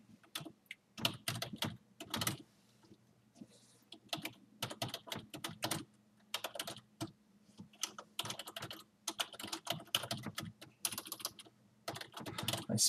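Rapid clicking keystrokes on a computer keyboard while a WordPress custom post type is set up, coming in uneven bursts with short pauses, close and clear with no voices.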